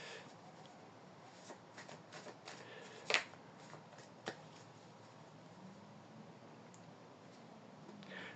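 Oracle cards are shuffled and drawn, with soft, scattered flicks and taps at close range and one sharper snap, over a faint steady background hiss.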